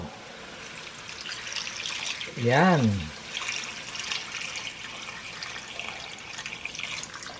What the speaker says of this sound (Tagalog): Ngayon, pwede na natin lagyan ng tubig, ng sabaw.